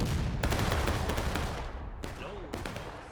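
A volley of rifle fire from a large infantry battle in the video game War of Rights, a loud rolling crackle of many shots followed by a few separate cracks against a dense, roaring battlefield background.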